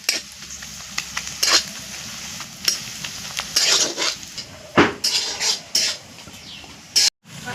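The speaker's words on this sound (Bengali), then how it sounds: "তাই পেঁয়াজটা মাছ দেওয়ার আগে যতটা ভাজার ভেজে নিতে হবে।" Onions sizzle in hot oil in a pan while a utensil scrapes and stirs them, with clinks of metal against the pan rising over the steady frying.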